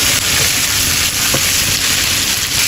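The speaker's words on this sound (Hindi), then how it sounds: "अब इन आलूओं को हाई फ्लेम पे 2 मिनट करीब इसी तरीके से चलाते हुए भून लेते हैं।" Diced potatoes for Pahadi aloo ke gutke roast with spices over high flame, giving a loud, steady sizzle with scraping stirs throughout, no voices.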